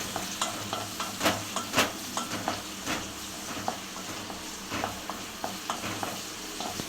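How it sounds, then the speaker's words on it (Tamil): Steady sizzling of onions and mint frying in oil for biryani dalcha, with occasional clicks and scrapes of a spoon stirring the pan, close up and fairly quiet. "தால்ச்சாவுக்கு வந்து வெங்காயத்தை போட்டு தாளிச்சுக்குருவோம்."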